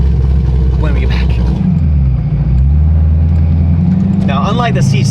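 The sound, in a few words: fast car engine revving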